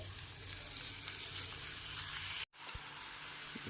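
Radish leaves hit a hot pan of sautéed chili and fry with a steady, loud sizzle and hiss that cuts out for a split second partway through, then resumes.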